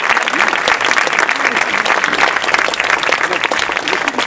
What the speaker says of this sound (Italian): Eccola qua, vogliamola con un bel applauso.